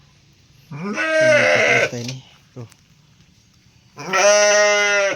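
A Garut goat on a family farm among rice fields bleats twice, a long wavering cry followed by another after a short pause, loud and close, with someone speaking briefly in between.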